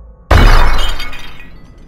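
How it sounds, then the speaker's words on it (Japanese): Window glass breaks with a sudden loud crash, then a dense spray of shattering fragments that rings and tinkles away over about a second and a half. "窓ガラスの割れる音。"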